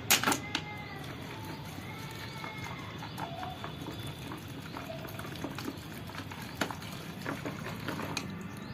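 Water is poured into a cow dung mixture, producing bubbling, splashing liquid sounds along with a few knocks and bumps close by.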